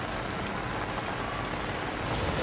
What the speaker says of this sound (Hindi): तेज़ बारिश गुड़गांव में भी हो रही है